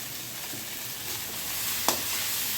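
Spiced raw jackfruit with turmeric and salt is sautéed in a pan for a Bengali dalna, producing a steady, moderate sizzling hiss broken by one sharp spatula tap near the end.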